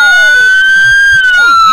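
Electronic police siren from a custom 1:18 scale Ford Crown Vic diecast model, a loud wailing tone close by that sweeps smoothly up and down without pause.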